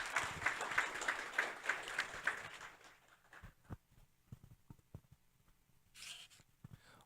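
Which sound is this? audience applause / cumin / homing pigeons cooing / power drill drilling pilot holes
audience applause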